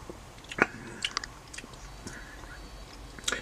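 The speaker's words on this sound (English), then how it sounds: "Excuse my lips smacking and my slurping" Lips smacking and slurping while tasting an 8% Lagunitas Hop Stoopid beer, a few close, wet clicks and smacks scattered irregularly over quiet background.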